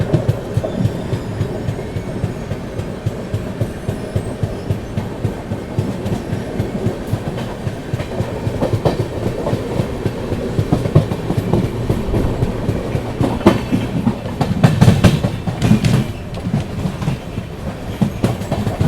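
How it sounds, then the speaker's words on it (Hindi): The Mangalore–Chennai West Coast Express passes at a crossing, its wheels drumming in a fast clickety-clack rhythm with a loud, continuous rumble, heard from aboard the Chennai–Mangalore West Coast Superfast Express, with no one talking. "ये सामने से आ रही है वेस्ट कोस्ट एक्सप्रेस"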